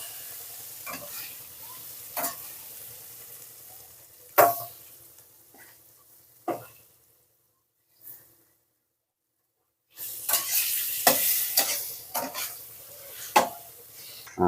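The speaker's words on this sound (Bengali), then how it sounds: "দেখুন আমাদের আলুটা লাল লাল করে ভাজা হয়ে গেছে" Potato pieces with salt and turmeric fry in oil in a wok, with intermittent scraping stir strokes over a crackling sizzle; the sound drops almost to silence for a few seconds midway before loud stirring resumes.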